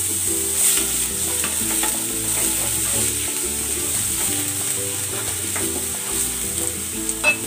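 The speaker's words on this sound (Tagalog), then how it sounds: "Igigisa ko na tong bawang." Garlic sautéing in hot cooking oil for hardinera, a steady close sizzle that runs throughout with light stirring scrapes now and then, and no speech.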